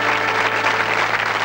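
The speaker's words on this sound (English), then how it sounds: "Give them a great round of applause, folks." Studio audience applauding on a 1985 British TV game show, a dense, steady wash of clapping filling the whole moment without pause, loud and close, with no voices over it.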